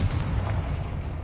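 A Confringo blast spell goes off in Hogwarts Legacy, a single short, dull explosive boom with a rumbling tail, loud and alone.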